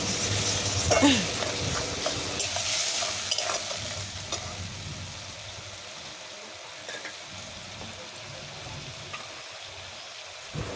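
Small river fish for a spicy curry sauté in oil, giving a steady sizzle with scraping stirring strokes, loudest early on, then a softer, continuous frying hiss that runs to the end with no talking.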